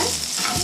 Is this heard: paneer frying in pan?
yes